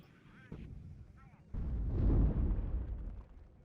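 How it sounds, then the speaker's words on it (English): Incoming artillery fire in the video game WARNO: a sharp blast followed by a heavy rumbling explosion that swells and slowly fades, with brief radio-style voice chatter before the impact. "Wir werden beschossen!"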